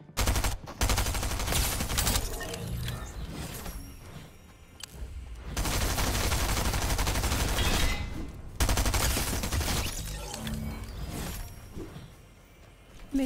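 Weapon fire in Fortnite, dense bursts of rapid shots in several loud volleys separated by short gaps, with a faint voice underneath.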